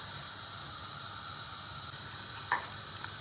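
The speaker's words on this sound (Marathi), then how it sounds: "याला उकळी आलेली आहे, आता आपण गॅस बारीक करूया।" Sweet potato chakolya dumplings in peanut gravy bubbling in a pot on a gas flame, a steady soft hiss and simmer with one brief louder pop near the end and no voices.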